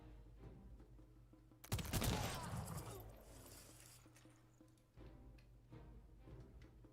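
A musket volley in the strategy game Humankind bursts out as one loud, crackling blast that decays over a couple of seconds into a rumbling battle din, followed by a softer thump and continued low background noise.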